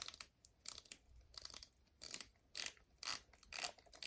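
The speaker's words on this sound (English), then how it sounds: "And a quick bezel check." A Seiko Save the Ocean Antarctica dive watch bezel is turned by hand. It gives quiet, close ratcheting clicks in short bursts of about eight separate turns, each bright and crisp.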